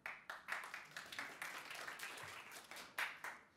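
A conference audience at a programming talk answers with scattered applause, separate hand claps rising and falling in quick irregular bursts, quiet and somewhat distant, with no speech over it.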